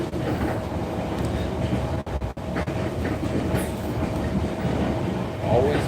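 Inside a moving passenger train running from Da Nang to Quy Nhon, a constant rumble of wheels and carriage noise continues with a few brief dropouts, and a faint squeal comes near the end.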